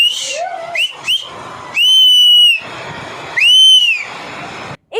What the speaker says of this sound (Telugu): దూరంగా ఉండి వీళ్ళిద్దరు విన్యాసాలు చూస్తున్న కొందరు ఈలలు కేకలు వేస్తూ మందుబాబులను ఎంకరేజ్ చేశారు